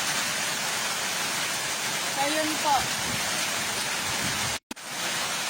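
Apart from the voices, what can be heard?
heavy rain and wind during typhoon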